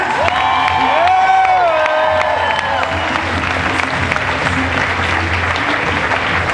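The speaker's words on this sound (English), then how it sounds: "Give a round of applause, you guys." A large audience applauds and cheers at a ViSalus event, with dense, loud clapping and whoops throughout and a voice briefly carrying over the start.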